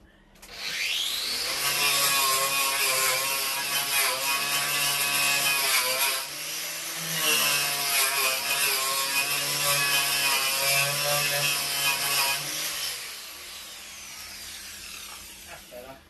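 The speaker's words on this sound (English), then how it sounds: "Let's do it with the other grinder." Angle grinder stripping paint from a van's metal bodywork before welding, a loud continuous whine with wavering pitch that spins up, runs for about eleven seconds with a brief dip, then winds down.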